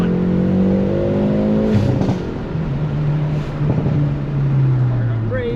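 A 2020 Hyundai Veloster N with a manual gearbox and front-wheel drive revs hard and loud, its pitch climbing and settling as it accelerates, with the roar holding steady throughout.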